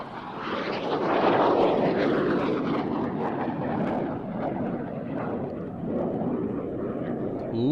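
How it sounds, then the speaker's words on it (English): A display aircraft rolls through aerobatic manoeuvres, twice one way and then the other, its engine note swelling and fading as it banks overhead, a continuous drone with a voice commentating above it. "Getting the aircraft rolling. Twice one way, then the other."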